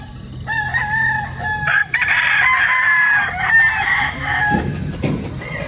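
Roosters crow repeatedly at a gamefowl farm, one loud, close, drawn-out crow followed by overlapping calls, with clucks and farmyard noise behind.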